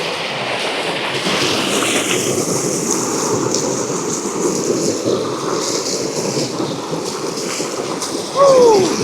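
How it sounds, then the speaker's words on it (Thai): Clear, cold water flows through the rural Lao countryside in a steady, loud, broadband rush that fills the whole stretch, with a brief higher call rising over it near the end. "กินข้าวฟังเสียงน้ำไหล"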